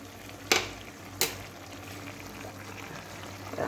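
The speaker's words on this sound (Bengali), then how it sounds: "তো এখন বড়িগুলো সেদ্ধ হোক।" A pot of spinach and vegetable curry with lentil dumplings (bori) simmers with a soft, steady bubbling close by, broken twice by sharp clinks early on.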